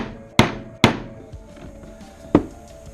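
Tapping a motorcycle fork seal into place with a socket on top, during a fork rebuild: three sharp metallic knocks, two quick ones close together and a third after a pause, ringing briefly over a quiet background.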